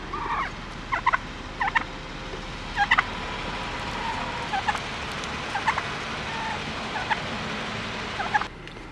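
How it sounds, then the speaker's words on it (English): Wild turkeys gobble beside a parked car outdoors in Colorado, several short bursts repeating at irregular intervals over steady background noise, fairly close and with no talking. "these wild turkeys are right here at my car"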